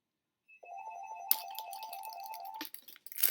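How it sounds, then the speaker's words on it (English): A home telephone rings with a steady electronic tone pulsing for about two seconds, fairly quiet and close, followed by brief clattering handling sounds. "Who's calling the home phone?"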